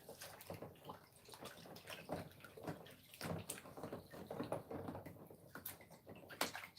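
Indoor water runs and splashes unevenly while plants from an indoor garden system are rinsed off, a faint, steady patter with small clattering bumps.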